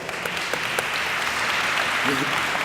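Audience applause at a senior olympics opening ceremony in DeKalb County, steady dense clapping throughout, with a brief voice murmuring near the end.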